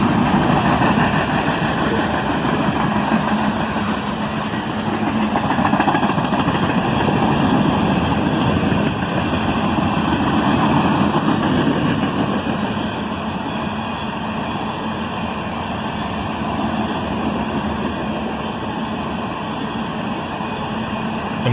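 A southbound CSX or Norfolk Southern manifest freight train with ethanol tank cars and a trailing gondola rolls past steadily, a continuous loud rumble with low engine drone and wheel noise sustained throughout, no talk.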